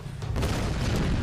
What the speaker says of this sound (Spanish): ¿Qué ha sido esa explosión?